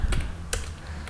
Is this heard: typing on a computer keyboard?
yes